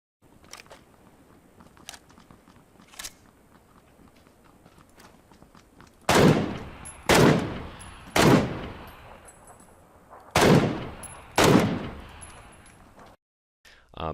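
In the PUBG video game, a marksman rifle fires five loud, booming shots at uneven intervals of about a second, after a stretch of faint clicks and ticks.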